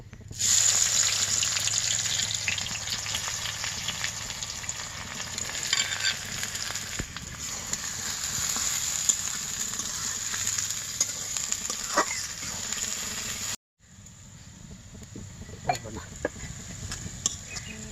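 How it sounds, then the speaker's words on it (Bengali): Chopped onions frying in oil for birista on a clay stove, a dense, steady close sizzle for most of the length, a sudden brief drop to near silence, then quieter frying with occasional stirring clicks. "এখন পেঁয়াজগুলো আমি ভেজে বেরেস্তা বানাই নিব"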